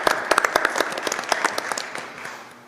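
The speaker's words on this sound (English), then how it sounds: "So give them a round of applause." Applause in a school board meeting for a middle school basketball team, a modest crowd clapping briskly at first, then thinning and fading out over a few seconds.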